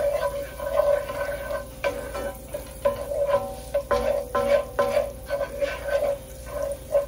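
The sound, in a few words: ginger being sautéed in a pan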